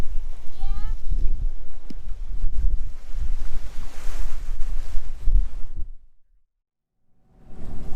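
A sailboat rides ocean swells at the mouth of the Columbia River, with loud wind buffeting the microphone and waves rushing against the hull, then a brief near-silence before the noise returns.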